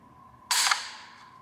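Dry-fire trigger break on a Garaysar Fear-109 bullpup pump-action shotgun: one crisp, sharp click, close and alone, then a brief fading ring in otherwise quiet surroundings.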